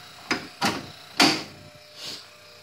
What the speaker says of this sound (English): That's that transmission pulley slipping around the belt that makes that noise.